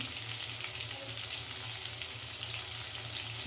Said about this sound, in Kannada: ಚೆನ್ನಾಗಿ ಫ್ರೈ ಮಾಡ್ಕೋಬೇಕು.